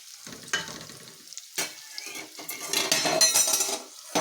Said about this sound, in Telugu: ఉల్లిపాయ పచ్చిమిరపకాయ వేగిపోయింది కదండి